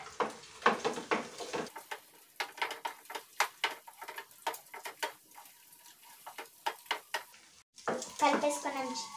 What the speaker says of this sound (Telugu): ఎగ్ వేసుకున్నాం కదా, మనం కలుపుకుందాం.